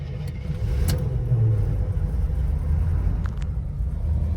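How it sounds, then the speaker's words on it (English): A 1985 Chevrolet K20 Suburban Silverado with a rebuilt carburetor idles cold, a steady deep rumbling engine drone close by, with a couple of faint clicks over the constant low throb. "This is a cold start."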